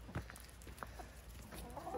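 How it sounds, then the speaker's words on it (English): Chickens and a rooster on a homestead, with soft scattered clucks and short calls close by over a steady low hum, and a brief louder squawk near the start. "And then here's our main rooster."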